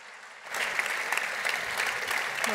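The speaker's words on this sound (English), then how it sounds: "what better way to begin our panel in this evening with a round of applause" Audience applause welcoming panelists onto the stage at an evening panel event, a steady mass of clapping that starts abruptly and continues evenly throughout, with no talking over it.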